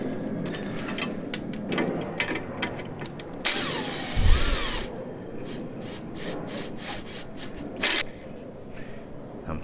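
Power tool loosening the lower strut bolt on a 2002 Honda Civic during steering knuckle removal, heard as a few short bursts of whirring and rattling with a louder burst midway, amid clanks and scraping in the work area.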